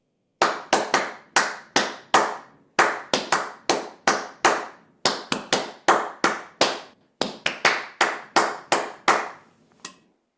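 Hands clap out the rhythm of the Star Spangled Banner: about thirty sharp, close claps in uneven phrases, with short pauses between groups and a single softer clap at the end.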